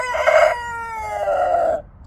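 A single loud crow from a young rooster rings out close by, a strained, drawn-out call lasting nearly two seconds before cutting off into quiet.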